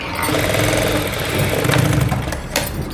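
A sewing machine stitches along both side seams of a piece of cloth. Its motor gives a steady, close mechanical whir with a fast rattling rhythm, and there is no talk.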